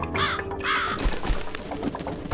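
Crow cawing in the video game The Cat Lady: two harsh, drawn-out caws close by in the first second, then a murky ambient game background with low rumbles and scattered clicks.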